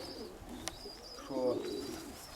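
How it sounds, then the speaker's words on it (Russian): A red-speckled, feather-footed pigeon gives a short, low throaty coo nearby, with a faint high whine and light background noise. "Это Одесска и это экспериментальная."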